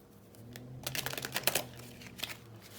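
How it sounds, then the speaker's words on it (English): Oracle cards are shuffled by hand in a quiet room, a soft flurry of riffling and tapping that swells and fades, faint and close, with no voices. "show you that I'm shuffling."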